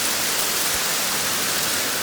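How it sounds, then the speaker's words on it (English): Hail pelting the outside of an overland truck's habitation box during a sudden storm, a steady dense hiss of impacts with no voices. "You can hear the hailstones in the background."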